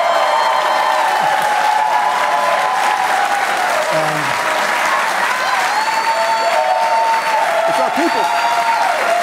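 Steady applause from a rally crowd fills the whole stretch, dense and loud, with a voice and scattered shouts rising over it.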